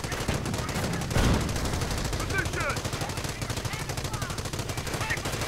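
Battle din from a WWII real-time strategy game as stormtroopers assault a heavy machine gun nest: continuous rattling machine-gun bursts and scattered rifle shots layered into a dense, steady barrage with no talk.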